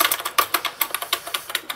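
Rapid, uneven clacking of the plastic keyboard of a GSD-1988 Nintendo NES clone console being typed on, close up, with sharp individual strokes and no talking.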